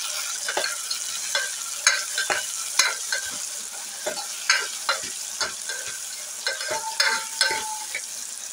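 Tomatoes, onions and curry leaves sautéing in a pan for a garlic tamarind kuzhambu, with a steady sizzle and repeated scraping stirs of a spoon at an uneven rhythm, close and moderately loud, no voices.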